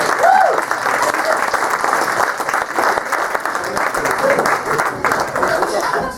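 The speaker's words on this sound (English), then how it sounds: "Big round of applause," Audience applause at an adult-only comedy club show, a dense, loud wash of clapping from a live crowd sustained throughout, with a few faint voices and whoops mixed in.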